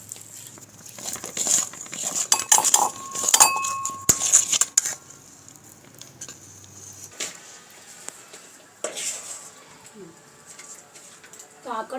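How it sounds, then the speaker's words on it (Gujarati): Almond mawa sweet mixture is stirred and mixed in a dish, with irregular metallic clinks and scrapes of a spoon against the dish, clustered at first and then sparser, while a voice speaks at times. "આ બધું આપણે સરસ રીતે મિક્સ કરી લઈશું"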